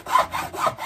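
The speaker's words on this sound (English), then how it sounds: "I'll just file in, put a little bevel on it." A hand file works the sawn edge of cardboard to bevel it on a budget cigar box guitar build. It gives four quick, close rasping strokes in an even back-and-forth rhythm.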